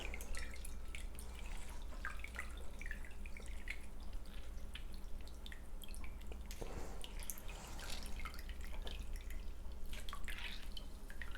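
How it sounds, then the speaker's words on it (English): Water drips and trickles as excess liquid is squeezed out of blanched spinach by hand in a kitchen, a faint, irregular patter of drops over quiet background hum, with no talking. "We're just going to squeeze all that excess water out."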